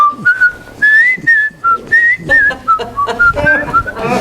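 A person whistles a TV theme melody close up, a clear tuneful phrase of short and held notes with brief breaths between.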